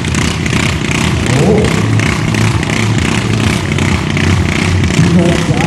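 Loud, steady engine roar from a garden tractor at a garden pulling event in Verl, clattering and droning continuously with rhythmic pulsing under occasional talk.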